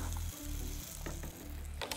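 A Monte Cristo sandwich fries in butter in a pan, giving a steady, close, crackling sizzle broken by a few light scraping clicks.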